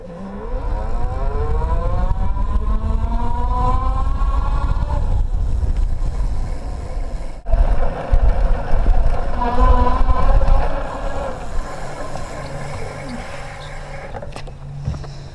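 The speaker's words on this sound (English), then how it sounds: "So this is the geared hub motor." A steady geared hub motor whine on a 2014 IZIP E3 Zuma electric bike, rising and falling in pitch like a siren, with road and wind rumble underneath, loud and sustained.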